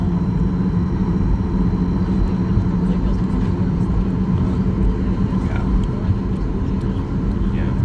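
Steady low engine drone and rumble from a Boeing 737 MAX 8 airliner taxiing on the taxiway, heard from inside the cabin as a continuous, even hum with faint background voices.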